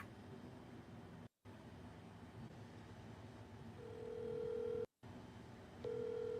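Telephone ringback tone on an unanswered call, steady repeating tone pulses over a constant hiss with brief dropouts, no talking.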